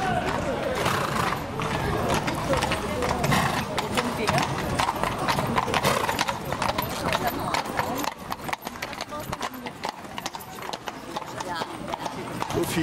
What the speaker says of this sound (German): Viele Pferde.